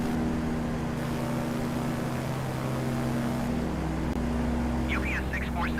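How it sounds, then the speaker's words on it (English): Both jet engines of an airliner in Microsoft Flight Simulator 2020 drone steadily as heard from the back of the cabin, a constant loud hum with tonal whine, while a voice talks briefly near the end. "here at the back of the plane, you can hear them both running"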